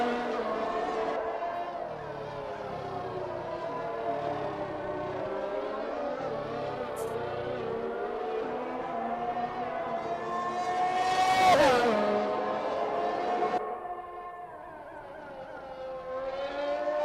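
Race car engine in a sim racing game at the Bahrain circuit, droning steadily with shifting pitch, swelling to a louder pass around the middle, then dipping briefly before rising again; no talk.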